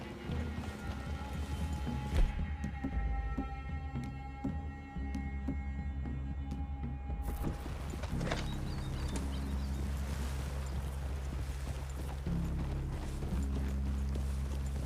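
Horses walk with soft, steady clip-clop hooves under a low ambient hum and wind in a Red Dead Redemption western game scene, quiet and continuous.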